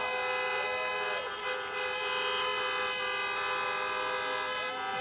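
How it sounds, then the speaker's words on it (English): A crowd of car horns honking at a drive-in political rally in Atlanta, a dense overlapping blare of sustained tones with pitch swoops, loud and continuous, tinged by a siren-like wail. "honk for your next United States Senators, John Ossoff and Reverend Raphael Warnock."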